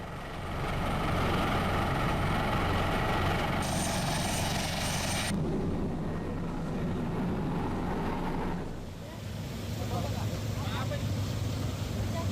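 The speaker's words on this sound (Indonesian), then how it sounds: "3 unit helikopter yang dikerahkan merupakan milik TNI AU, Polda Sulsel, dan juga BNPB" Helicopters from the Indonesian Air Force, regional police and disaster agency flying flood evacuation and aid missions in Luwu give a steady, loud rotor drone throughout, with a voice talking over it.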